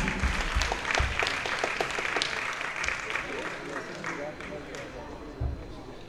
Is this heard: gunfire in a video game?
no